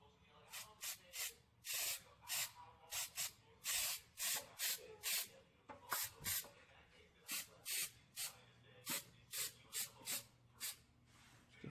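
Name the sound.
spraying rubberized undercoating on a Toyota AE86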